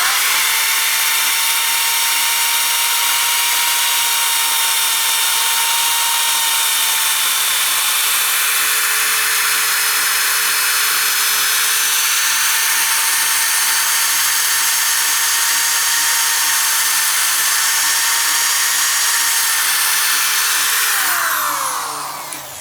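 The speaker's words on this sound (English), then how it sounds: "So time to sand it up." A steady high-pitched whine and hiss of a spinning lathe with 220-grit sandpaper on a spalted sycamore bowl, continuous and loud, slowing down at the very end.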